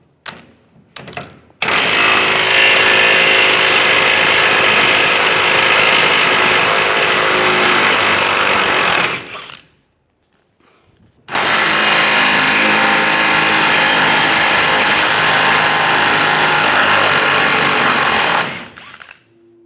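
Power tool with a 21mm socket removing trailer hitch bolts under the rear bumper of a 2007-2013 Chevrolet Silverado 1500, in two loud, sustained rattling bursts close by, separated by a short pause.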